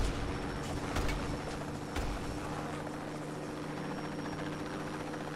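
Air support helicopter in a video game, a continuous rotor chop and turbine whine, fairly close and steady, with a couple of brief louder thumps near the start and no talk.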